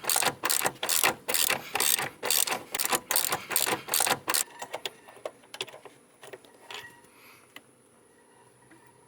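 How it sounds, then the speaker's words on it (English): A Husky socket ratchet backs out a seat bolt in a Buick Enclave, a rapid series of loud, close clicking strokes for about four seconds, then fading to faint rattles and quiet handling. "We're just going to ratchet it out."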